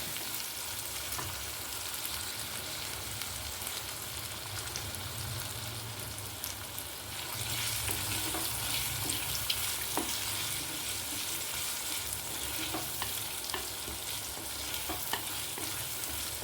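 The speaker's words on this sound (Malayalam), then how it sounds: "നന്നായിട്ട് മൊരിയട്ടെ" Salted mango pieces fry steadily in hot oil in a pan, a dense continuous sizzle with faint stirring clicks, growing slightly louder partway through and holding alone without talk.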